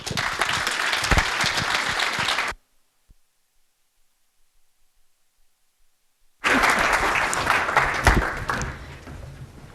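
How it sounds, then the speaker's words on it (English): A live audience at a talk gives loud, full applause in two bursts separated by a few seconds of silence. "Could you please join me in giving a huge round of applause, Lucy Bain, everyone."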